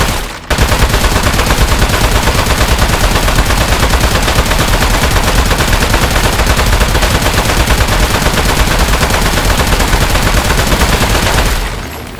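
Rapid automatic gunfire in the video game Aperture Desk Job, a loud, dense and continuous burst of shots lasting about eleven seconds before cutting off.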